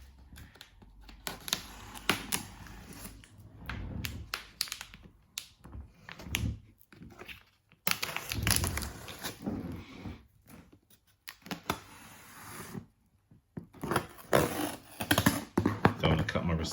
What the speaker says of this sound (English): let's start opening this box